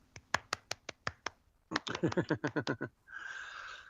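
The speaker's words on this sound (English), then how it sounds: "let me give you a golfer's clap right here" A quiet golf clap from one person: a few soft, slow, evenly spaced claps, then a quicker run of claps, close and light, with a brief rustle after.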